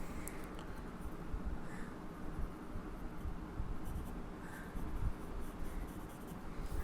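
A pencil scratches across paper while Goku's ears are drawn, a close, continuous soft scraping with faint rhythmic strokes and no talking.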